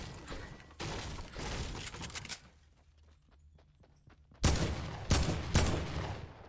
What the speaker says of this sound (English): It's like I have to readjust after every single bullet that I fire.